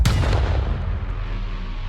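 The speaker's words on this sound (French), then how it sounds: "Grenade!" A grenade blast in the video game Call of Duty Black Ops Cold War hits loud and deep at once, then rolls off into a long, fading rumble.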